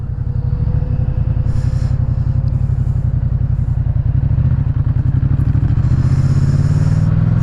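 A Yamaha MT-07 motorcycle is ridden along country roads, its engine a steady, close, pulsing drone with road and wind noise and no talking.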